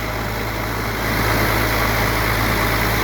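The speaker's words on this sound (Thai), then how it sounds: "มาติดเครื่องแล้วนะ" A boat engine idles steadily after starting, a constant low drone with a steady hum that grows slightly louder partway through and holds on without pause.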